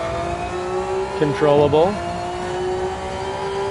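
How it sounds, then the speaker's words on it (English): A GR3 race car engine revs in Gran Turismo 7, a steady high whine rising and falling through a short burst of acceleration, with a voice speaking briefly over it. "I have to remember to rev it out."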